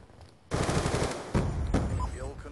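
Rapid automatic gunfire in Call of Duty: Black Ops 2 breaks out after a quiet start, loud and close in sustained bursts, with a second volley and sharper game effects following.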